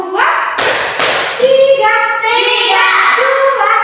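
A class of seventh-grade pupils claps on command in an Islamic ethics lesson, a few sharp hand claps up front followed by children's voices chanting and a teacher calling counts.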